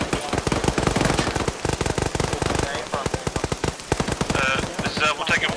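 Machine gun fire in Arma 3 during squad training, heard as dense, rapid bursts of close gunfire with short gaps between them, while radio-style voices talk over the shooting.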